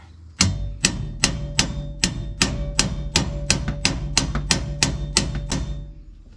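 A hammer strikes a Polaris RZR Pro XP shifter part over and over, about fourteen sharp ringing blows in a steady rhythm, close and loud with no talking.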